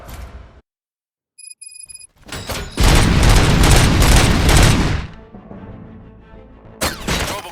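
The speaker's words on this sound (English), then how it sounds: "Gunshots? What's going on?" Gunfire in the first-person shooter RoboCop: Rogue City: a heavy, sustained burst of rapid automatic shots and booms over a couple of seconds, followed by quieter rumbling and another loud blast at the end, with no talking.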